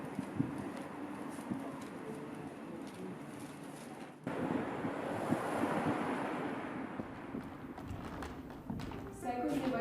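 Storm wind roars steadily throughout, with a surf-like rush and buffeting against the microphone that swells louder after a few seconds and again near the end; no one speaks.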